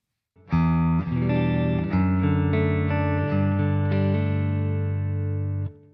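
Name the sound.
clean electric guitar amp tone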